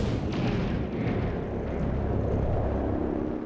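Gunfire in the tactical game XCOM Chimera Squad comes as a dense, rumbling barrage with booming blasts. It is loud and continuous across the short stretch, and no one talks over it.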